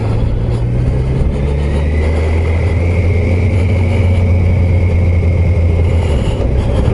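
The engine of a 2021 Kawasaki Versys 1000 SE Grand Tourer motorcycle running smoothly on the road, a loud, close, steady low drone with a faint higher whine held throughout and no voices.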